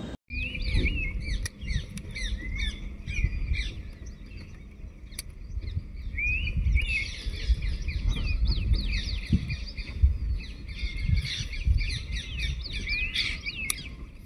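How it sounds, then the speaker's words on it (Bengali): Green bee-eaters in a riverside forest of Rajaji National Park give repeated bright, trilling chirps, some close and some farther off, over a steady low rumble of a vehicle engine. "এ হলো বাঁশপাতি পাখি, আমাদের গ্রাম বাংলায় প্রচুর দেখতে পাওয়া যায়।"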